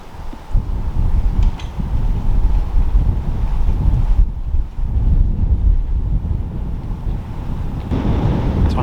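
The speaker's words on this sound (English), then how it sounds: "it is quite windy" Strong wind buffets the microphone in steady low rumbling gusts, loud and close, with a brief lull midway and no talking, outdoors in the Cotswolds village of Brimpsfield.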